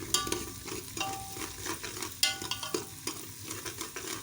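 Garlic and ginger paste fries quietly in a pan, a faint crackling sizzle broken by scraping stirs and clinks of a utensil against the pan, with no talk.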